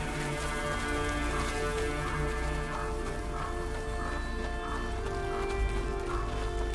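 Horse hooves clip-clop at a steady pace in the video game A Plague Tale: Innocence, set against soft rain and a low rumble, fairly quiet and in the middle distance.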